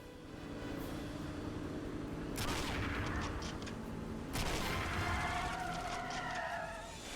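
Gunfire in 007: Nightfire rattles at a speeding car as engines roar and tyres skid, with two loud bursts of shots and a rising siren-like whine near the end.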